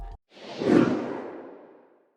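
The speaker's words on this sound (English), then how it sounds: "Using chorus on some of the super noisy whooshes in the tail adds a lot of character and movement" A single noisy whoosh swells after a brief click, peaks, then trails off slowly with a wavering, shimmering chorus-like movement in its tail.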